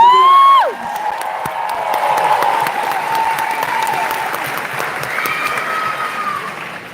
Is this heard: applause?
yes